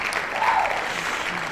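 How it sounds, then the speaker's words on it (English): A canned applause clap track bursts in as a steady wash of clapping from a crowd, loud and continuous across a short stretch. "Why are you running a clap track every time you say something like F off to Steam Deck users, dude?"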